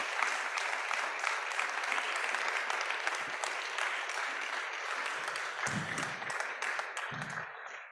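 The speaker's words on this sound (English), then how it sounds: "Please give my guests here a round of applause for their expertise for speaking with us" At an evening event on Arctic change, an audience gives a sustained round of applause for expert panelists, a full steady clatter of many hands, with a few low voices surfacing late as it tapers.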